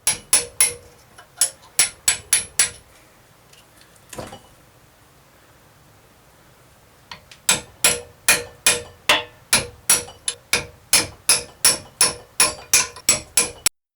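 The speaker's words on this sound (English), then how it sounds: "Carefully hammer out the upper bushings." Upper bushings being hammered out of a Trabant 601 front axle, steel striking metal in fast, loud, close runs of ringing blows, a brief pause and one lone strike, then a steady rhythmic series of hits.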